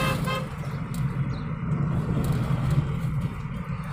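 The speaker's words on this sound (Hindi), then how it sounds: "हॉर्न यूज़ करो बीच बीच में" Road noise from a moving vehicle with a short car horn toot early on, fairly close, under a steady engine rumble.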